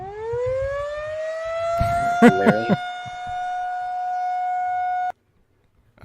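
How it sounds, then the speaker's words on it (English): A tornado siren wails steadily at a high, eerie pitch, loud and sustained for several seconds before cutting off abruptly, with a brief murmur partway through. "tornado sirens are pretty eerie."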